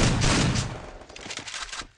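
Rapid gunfire in the Free Fire battle royale video game, a dense burst of overlapping shots at first, then thinner scattered pops trailing off over about two seconds, close and loud.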